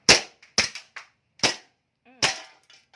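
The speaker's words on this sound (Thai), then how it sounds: "เดี๋ยวมาลองทดสอบยิงดูนะครับ เราขึ้นลำไปแล้วนะครับ" Glock 19 blank gun test-fired, four sharp loud cracks in quick irregular succession, very close, each with a short ringing tail.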